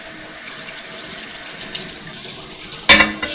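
Tap water runs steadily into a sink as a pan is rinsed, a continuous close hiss with a sharper splash near the end.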